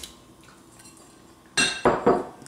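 Chunks of mango drop into a mixer jar while making mango mastani, giving a few loud clattering knocks in quick succession after a quiet stretch.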